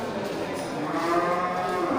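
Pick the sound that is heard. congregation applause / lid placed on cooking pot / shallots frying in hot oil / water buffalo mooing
water buffalo mooing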